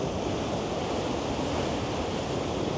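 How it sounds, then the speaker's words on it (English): Ocean waves crash against a headland cliff on a cloudy day, a steady loud roar of surf and wind with no distinct breaks, unbroken by talk. "the waves are crashing in"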